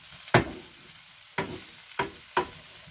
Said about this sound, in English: Not really trying to burn it or nothing, just trying to brown it, make sure it's good and done.